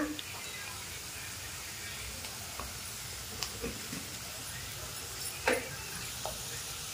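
Onions sizzle softly in a pan as turmeric is added, a steady low frying hiss with occasional light clicks and scrapes of a spoon.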